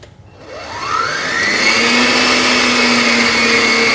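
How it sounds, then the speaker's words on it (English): An electric whisk beats brownie batter with eggs, its motor whine rising in pitch as it spins up within the first second, then holding a loud, steady, close drone to the end. "So one more batch of eggs, and we're gonna give this a whisk again."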